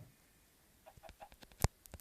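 Minecraft chickens cluck in short, scattered bursts, quiet at first, then a sharper sudden peck or knock followed by a couple more clucks.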